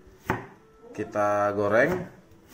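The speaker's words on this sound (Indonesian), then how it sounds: "bersama telur nanti kita potong" A knife cuts potatoes and egg in a home kitchen: a few sharp chopping strikes against a board, close up, with a person talking between and over them.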